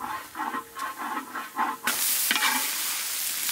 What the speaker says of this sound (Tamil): வெங்காயம் அரைவேக்காடு வெந்து வந்துருச்சு இப்போ கஸ்தூரி மெத்தி போட்டுக்கலாம்